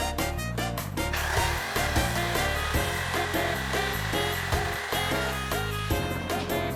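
A power saw whines continuously while cutting a board for a bathroom cabinet built from recycled materials, with a steady loud motor tone and repeated rhythmic pulses from the blade biting through the wood.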